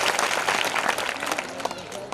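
Audience applause welcoming the guest at a Hindu religious katha gathering (Narmada Mahapuran): a steady, dense wash of many hands clapping throughout, with a voice speaking over it.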